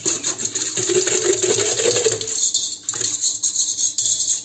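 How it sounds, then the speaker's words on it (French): A spoon or whisk stirs yeast, sugar, water and milk in a bowl with a busy, close scraping and clinking at first that thins into sparser light taps, no talking. "Je vais mettre la levure boulangère et le sucre et je mélange."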